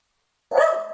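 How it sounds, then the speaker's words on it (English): A dog gives one sudden, loud, close bark that starts after a half-second of silence and rings briefly. "Wait, my dog's going crazy."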